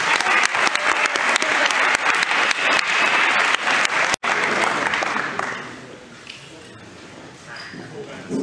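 An audience claps steadily for a high school player receiving a varsity letter at a sports awards event. The loud applause lasts about five seconds, then fades into quieter room noise with some faint voices.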